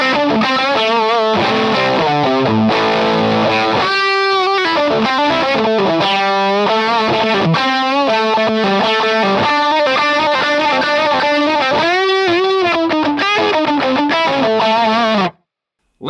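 Guitar through a Yamaha FX900 multi-effects unit set to distortion with boosted mids and reduced high gain, playing a loud, sustained lead and chord passage with bending notes, alone for about fifteen seconds before stopping.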